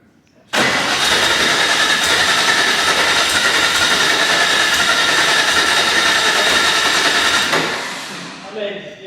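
A 600hp air-cooled Porsche 964 Turbo engine in an RWB Porsche 911 catches on its first start: an abrupt loud roar that holds steady and rough for about seven seconds, then cuts off and fades, with a few clicks after.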